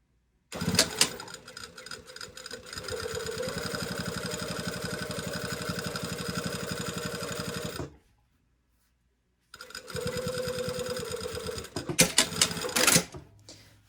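A sewing machine bastes a coat front at a half-inch stitch, whirring steadily for about seven seconds, falling silent, then running again in a shorter burst that ends with a few clunks of handling.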